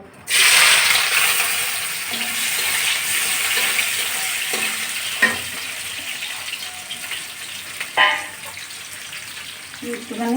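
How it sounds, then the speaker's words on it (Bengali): Chopped onions hit hot oil in a wok with a loud burst of frying, then a sustained close hiss and crackle, with occasional clatters of stirring and a voice speaking over the sizzle. "এই যে দিয়ে দিচ্ছি তেলের ভিতরে পেঁয়াজগুলো আগে লাল লাল করে ভেজে নেব"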